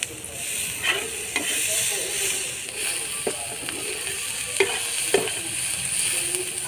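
Chopped onion and tomato sizzle steadily in a pan for an egg dopiaza, with a constant close frying hiss broken by occasional scraping clicks as a spoon stirs.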